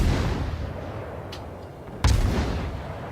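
Warship naval gun salvo in a World of Warships battle: a broad booming blast near the midpoint over a steady low rumble, with a fainter earlier report before it.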